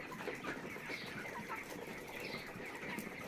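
Chickens on a Bangladeshi village farm in winter, clucking softly with occasional wing flaps against a low, continuous background noise, faint and fairly distant.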